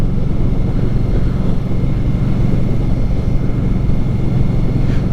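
A 2018 Indian Scout Bobber motorcycle on the road, its low engine drone steady and loud alongside heavy rumbling wind noise, with no talk.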